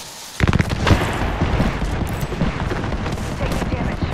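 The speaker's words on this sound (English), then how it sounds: "Being shot at." Gunfire in the battle royale game Apex Legends, with a sudden burst of rapid automatic shots followed by sustained crackling fire and impacts, loud and close, with game voices faintly underneath.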